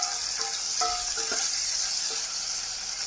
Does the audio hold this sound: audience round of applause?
no